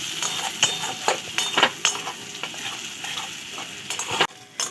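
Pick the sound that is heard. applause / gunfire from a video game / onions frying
onions frying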